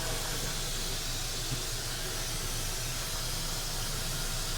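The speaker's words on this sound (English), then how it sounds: "There's a little vacuum system came with the camper, which is pretty nice." A camper's built-in vacuum system runs steadily throughout, a continuous broadband rushing hiss with a low hum underneath, close and even with no break.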